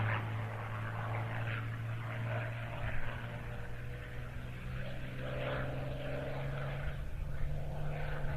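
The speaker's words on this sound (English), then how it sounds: "P-40C with its Allison V1710 engine." A Curtiss P-40C fighter with an Allison V1710 engine flies past at an airshow, its propeller engine a steady, moderately distant drone under a continuous low hum.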